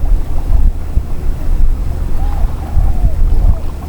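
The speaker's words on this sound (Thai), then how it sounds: "ลมยังแรงนะครับ" Strong wind buffets the microphone on a small fishing boat on open water, a loud constant rumbling roar with low gusts throughout.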